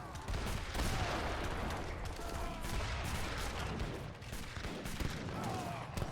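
Hand mortars and other gunfire in the strategy game Age of Empires III, heard as a dense, continuous battle din of overlapping shots and explosions, loud throughout with no clear breaks.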